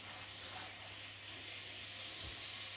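Seven sausages and six pieces of bacon frying in a pan, a steady close sizzling hiss that fills the whole moment without a break, no voices over it.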